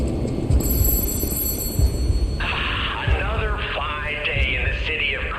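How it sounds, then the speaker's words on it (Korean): A telephone rings in the Lies of P video game, a trilling bell that starts partway in and repeats under game music and low rumbling effects, with a person talking over it. "전화 왔다 전화"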